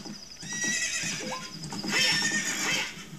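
A horse in The Legend of Zelda: Ocarina of Time gives a loud, drawn-out whinny with hooves clopping beneath it, and no one speaks over it.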